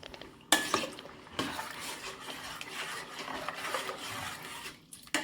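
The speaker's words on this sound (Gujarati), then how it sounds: "આપણે એને હલાવતા જ રહીશું." A sabudana papad mixture stirred in a pot in a home kitchen, scraping and clinking utensil strokes against the pot with a few louder knocks, close and moderately quiet, without talk.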